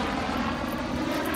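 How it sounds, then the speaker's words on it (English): A helicopter passing overhead outdoors, a steady broadband rotor and engine drone that holds fairly constant through the brief moment, with no talk. "there goes a helicopter."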